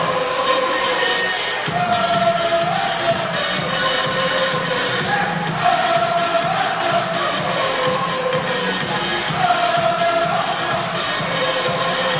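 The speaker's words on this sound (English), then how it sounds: "Boy, this crowd is loving it." A crowd roars at a Hawaii men's volleyball home match against Master's, a broad sustained din of cheering and shouting with whistles and rising swells, loud and continuous for the whole stretch.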